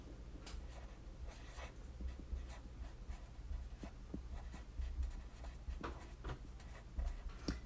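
Pen strokes scratch across paper while a skeleton Lewis structure is drawn in a chemistry lesson, with short irregular bursts and brief pauses, steady and close, with no talk.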